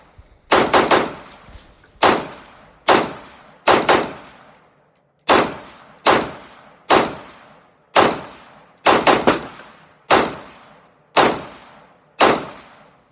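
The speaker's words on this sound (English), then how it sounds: "here we're just going to go ahead and just shoot the heck out of it" An AR-style M4 rifle fires about a dozen sharp, loud shots in a steady rhythm of roughly one per second, each crack ringing out and decaying before the next, with no talking.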